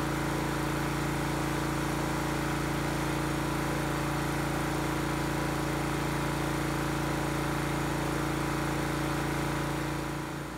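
A 212 cc Predator gasoline engine drones steadily with a strong hum under a 90 amp electrical load, running continuously at a constant pitch for the whole stretch.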